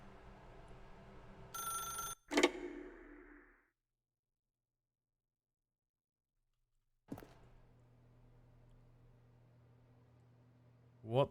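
A telephone rings in a video game: one short, bright burst of rings, a soft thump, then near silence before a low ambient hum and a faint click return.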